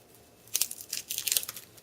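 Papery garlic skin is pulled off cloves crushed with a mortar and pestle, giving close, dry crinkling and tearing rustles in several quick bursts with no talking.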